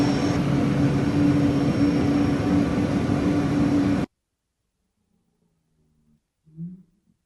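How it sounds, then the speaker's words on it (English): A plane carrying a state visitor comes in to land with a steady, loud, broad roar of its engines for about four seconds, then cuts off abruptly, leaving near silence with a faint thump. "Here he is coming in the plane."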